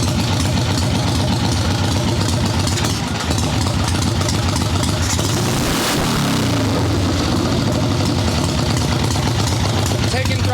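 A swap meet chopper motorcycle engine idles while warming up, a loud, close, rough throbbing rumble that holds steady throughout with a brief dip in the middle.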